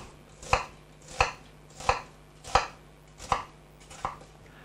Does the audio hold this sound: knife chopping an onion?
yes